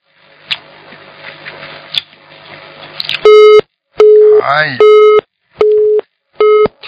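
A telephone busy tone sounds after a dropped call: a run of loud, evenly spaced beeps with short gaps follows about three seconds of talk, and a voice briefly breaks in between two of the beeps.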